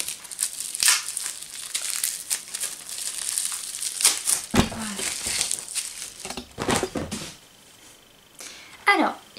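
A wrapped package being opened, its crinkly wrapping rustled and crumpled in close, loud bursts, with brief pauses toward the end.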